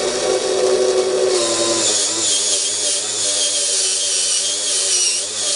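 A rubber slot car tire is spun against an abrasive to true it and bevel its inside edge, giving a steady high grinding hiss that shifts pitch partway through, with a whirring motor beneath.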